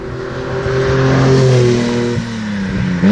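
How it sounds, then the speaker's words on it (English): A 1975 Lancia Stratos HF Group 4 engine revs loudly and close, its deep, throaty tone rising and holding before easing off with mechanical rattle underneath. "The sound it makes, it's a beautiful Italian, bassy, cammy, all the mechanical noises you'd ever want."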